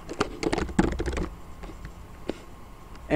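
A computer keyboard clicks in quick bursts of keystrokes, close and clear, then slows to a few scattered taps.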